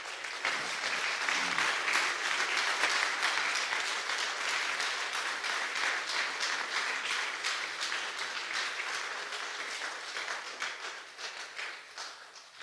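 A church congregation breaks into sustained applause, a dense, even wash of clapping that fades slightly toward the end, with no talking over it.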